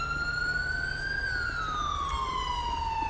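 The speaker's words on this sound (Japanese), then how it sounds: "救急車到着ですね" An ambulance siren in the GTA 5 video game wails steadily, its pitch rising and then slowly falling, loud and continuous over low rumbling background noise.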